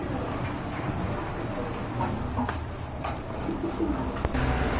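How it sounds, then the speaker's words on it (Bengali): Pigeons cooing in a breeding loft, with soft, repeated low coos from several birds that overlap continuously against a close, busy background murmur. "এখানে আরেক জোড়া দেখতে পাচ্ছেন কবুতর"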